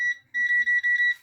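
Tefal air fryer control panel beeping as its buttons are pressed: a short electronic tone, a pause, then a run of four or five quick bright beeps, clear and close.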